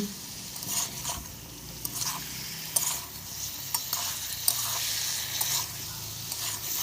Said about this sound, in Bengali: এই যে এখানে আলু আর ফুলকপি যে ভেজে রেখেছিলাম এই সবজিগুলো আমি এর মধ্যে দিয়ে ভালোভাবে কষিয়ে নিচ্ছি